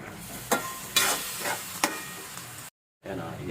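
Squash (kalabasa) with a splash of fish sauce is stirred in a cooking pan, several close scraping strokes over a soft sizzle, with a brief gap of silence near the end.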